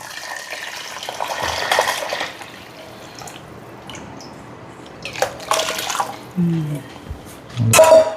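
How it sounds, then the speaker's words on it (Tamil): Tamarind water and ground coconut water are poured into a pot of stingray fish curry, giving a soft splashing, trickling sound in bursts, close by, with a few brief clinks and some background noise. "புளியும் தேங்காய் அரைச்சிருக்கிற தண்ணியும் உள்ளே ஊற்றுறேன்"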